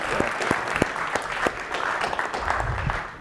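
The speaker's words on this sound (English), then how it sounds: "Please hold your applause." Audience applause breaks out at a music industry forum to welcome a speaker, a dense wash of clapping with a few sharp nearby claps standing out, and a faint voice murmuring beneath it toward the end.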